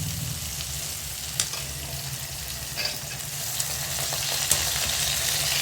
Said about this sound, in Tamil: இப்போ பாருங்கள் நல்லா வதங்கிட்டு இருக்கு இந்த கத்திரிக்காய் முருங்கைக்காயும் நல்லா சேர்ந்து நல்லா வதங்குது